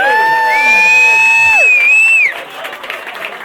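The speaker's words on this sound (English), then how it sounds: "Big round of applause for the SB Society!" A crowd at a rally prize presentation cheers and whoops for the SB Society, loud shouting and whistles dominating at first, then easing into scattered clapping and fading voices.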